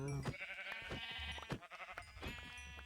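Sheep bleating in a farming video game, several wavering overlapping bleats from more than one animal, quiet and somewhat distant, with no talking.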